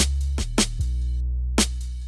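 Deep, booming 808 bass sustains loudly beneath a beat, punctuated by a few sharp percussive hits and one brief drop in the low end.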